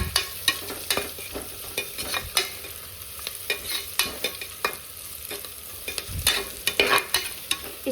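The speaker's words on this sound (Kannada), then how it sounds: "ಸ್ವಲ್ಪ ಆನಿಯನ್ ಹಸಿ ವಾಸನೆ ಹೋಗೋ ತನಕ ಫ್ರೈ ಆದಮೇಲೆ" Onions frying in a pan while cooking avarekal bath, a steady sizzle broken by repeated sharp scrapes and clicks of a spoon stirring against the pan, close and clear with no talking.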